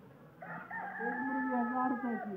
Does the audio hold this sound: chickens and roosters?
yes